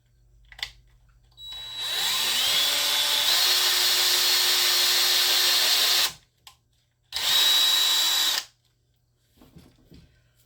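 Power drill boring into a resin table, a loud steady whine running about four and a half seconds, stopping briefly, then a second shorter burst before falling quiet.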